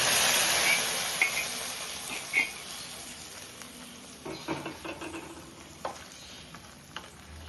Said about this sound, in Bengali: এই যে এখন ফোড়ন দিয়ে দিচ্ছি, ব্রাউন কালার হয়ে গেছে দেখুন।